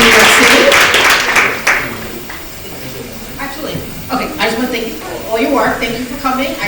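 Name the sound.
audience applause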